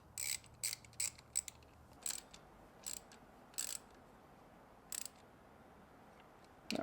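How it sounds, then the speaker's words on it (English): A wrench tightens the cam caps on a restored Ferrari F355 five-valve cylinder head, giving a series of short, crisp ratcheting clicks in irregular bursts separated by near silence. "tighten down our cam caps"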